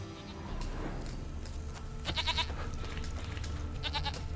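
Goat bleats ring out in The Witcher 3 video game, two bursts of quavering bleating about two seconds apart, close and clear over a steady background of game music and ambience.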